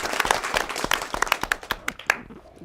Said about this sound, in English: a round of applause for my panel, please